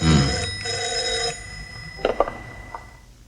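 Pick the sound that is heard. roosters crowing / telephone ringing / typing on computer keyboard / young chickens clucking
telephone ringing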